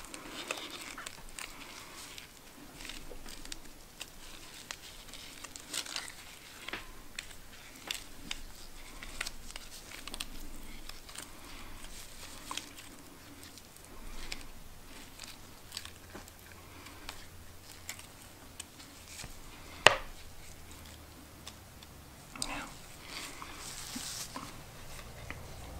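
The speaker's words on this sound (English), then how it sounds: "So I'm going to bring in my fork to start mixing." Close, intimate sticky tapping and squishing of a fork working through peanut butter cookie dough, soft irregular strokes that repeat steadily with one sharper knock near the end, with no talking.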